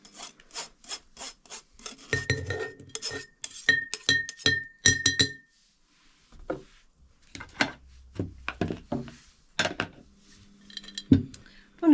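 Glass jar clinking and rubbing as food is packed into a one-kilogram jar, with bursts of sharp clinks and scraping, a pause, then more irregular knocks and clatter close by.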